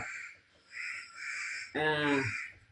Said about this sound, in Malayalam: പക്ഷികളുടെയും കാക്കേൻ്റെയും ഒക്കെ സൗണ്ട് ഉണ്ട് കേട്ടോ.